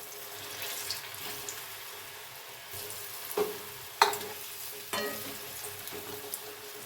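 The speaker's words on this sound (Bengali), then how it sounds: "এইভাবে একটু লাল করে আমি ভেজে তুলে নেব" Moong dal puli pitha frying in hot oil in a kadai, a soft continuous sizzle with a few sharper crackles and splutters as pieces are turned or lifted, close and moderately quiet.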